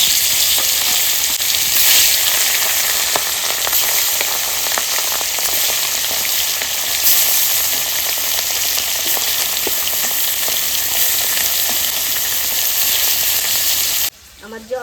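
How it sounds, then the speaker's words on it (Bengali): Thick pieces of katla fish fry in hot oil, a loud, steady, crackling sizzle right at the pan that runs unbroken for a long stretch before dropping away abruptly at the end. "তেল গরম হয়ে গেছে এবার মাছটা আমি ছেড়ে দিচ্ছি"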